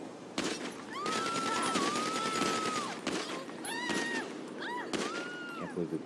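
Bursts of gunfire in a GTA roleplay heist game, loud sharp shots scattered across the clip in quick clusters, with voices talking over the shooting.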